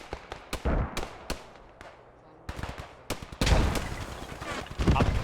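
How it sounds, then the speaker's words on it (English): Combat in the World War II video game Post Scriptum, set in Nijmegen during Operation Market Garden, with a Panzer tank shot down an alley: sharp irregular gunshots and bursts, then louder booming blasts toward the end, with talk in between. "This is probably a Panzer shot straight through the alley here."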